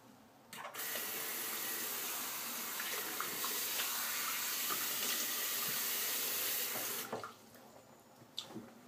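A bathroom tap runs in a steady, close hiss for several seconds while water wets a face before a razor shave, then cuts off abruptly, leaving faint clinks.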